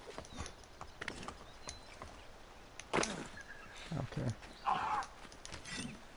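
A horse's hooves clip-clop in irregular runs of steps in Assassin's Creed 3, mixed with rustles and soft thuds, while a player talks over the game sound.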